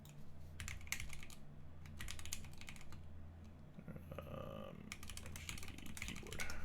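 Typing on a Cooler Master mechanical keyboard, a fast run of close, crisp key clacks with brief pauses over a steady low hum.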